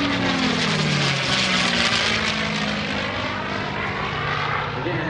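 A P-51D Mustang propeller fighter flying in a heritage flight at an air show, its loud piston-engine roar filling the whole stretch as it passes close overhead, with a falling pitch as it goes by.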